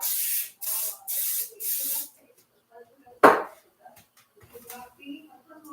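Cooking spray hissing from a can onto a pan before pancake batter goes in, four short loud bursts in quick succession, followed by quieter clatter and small handling noises.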